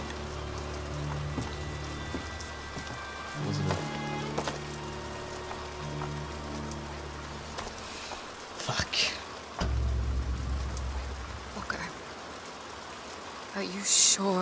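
Steady rain patters over a low ambient drone in BioShock, with a few louder swells and a muffled thump partway through.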